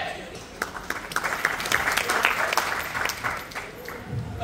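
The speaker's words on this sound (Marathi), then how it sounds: "जोरदार टाळ्या." Audience applauding at a college parents' day event, a few seconds of brisk, dense clapping that swells and then thins out, with voices talking over it.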